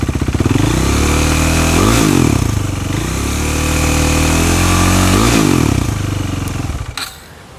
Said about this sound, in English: Let me turn on the bike, you will understand.